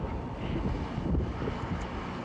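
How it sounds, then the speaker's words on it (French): Wind blowing outdoors on a cold day, a steady low roaring buffet across the microphone with slight surges, no other clear sounds. "Il y a du vent, il fait froid."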